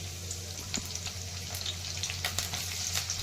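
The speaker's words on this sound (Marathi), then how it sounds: "तर आता यामध्ये कांदा टाकून घेते." Onion frying in hot oil in a kadhai, a steady loud sizzle with occasional sharper crackles and pops, close up and without talk.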